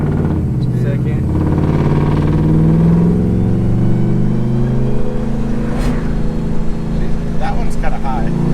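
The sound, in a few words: shop truck engine running through gears on dyno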